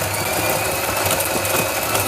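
A Krups EA8298 espresso machine brews a strong 60 ml espresso during pre-infusion, giving a steady, moderately loud mechanical pump hum and vibration with no pauses.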